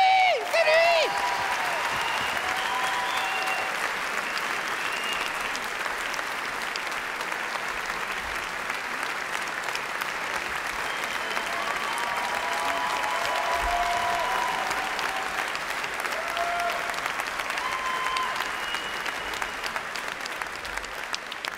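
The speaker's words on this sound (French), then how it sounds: "je vous donne un tonnerre d'applaudissements" A theatre crowd at the 2014 Liège international comedy festival claps and cheers steadily for a stand-up comedian for around twenty seconds, with a few whoops and voices rising over the dense, sustained applause.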